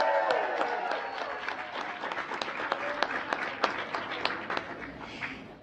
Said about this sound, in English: Please join me in another round of applause for our talented musicians who flew all the way here from Los Angeles this morning